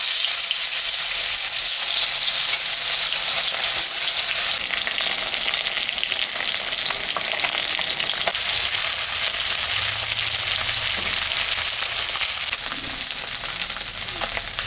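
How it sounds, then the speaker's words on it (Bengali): Rohu fish pieces, salted and rubbed with turmeric, fry in hot mustard oil, giving a loud, steady, dense sizzle that runs unbroken for the whole stretch with no talking. "তেলটা গরম হয়ে গেছে, এখন আমি মাছটা ভাজব।"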